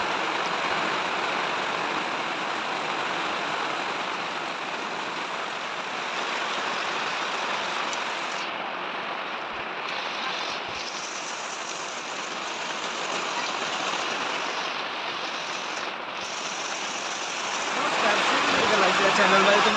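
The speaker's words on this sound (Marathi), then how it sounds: "सध्या पाऊस पडतोय." Steady May rain pours down in Sindhudurg, a dense, even hiss that holds for the whole stretch and swells slightly louder near the end.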